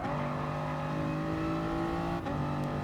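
A Gr.3 race car engine in Gran Turismo at Dragon Trail Seaside holds a loud, steady high-pitched whine, with a brief dip as it shifts gear near the end.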